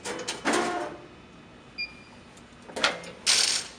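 A METTLER TOLEDO 880 grocery auto wrapper rotating its arbor forward, giving a few separate mechanical whirs and clunks with short pauses between, fairly close in a quiet room.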